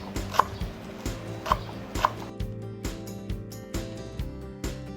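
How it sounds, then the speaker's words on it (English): A knife chops leeks very small on a cutting board, striking in a steady series of sharp, close taps, roughly two per second, with a few louder knocks early on. "for my leeks, we're gonna chop them off very small because we're gonna create the leek oil later on"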